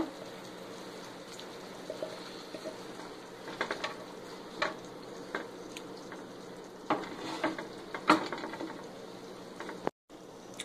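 Mushroom and grated coconut cook in a pan over low flame for a Kerala mushroom thoran, giving a steady soft sizzle with occasional louder scrapes and stirring knocks, fairly close and without speech.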